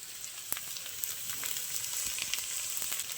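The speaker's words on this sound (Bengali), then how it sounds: "দেবো হলুদ গুঁড়ো একটু ভালো করে আলুটা আমি কষিয়ে নেবো" Potato sautés in a pan with salt and turmeric, giving a soft, steady frying sizzle with a few faint stirring clicks. The sound is quiet and close, and no one speaks.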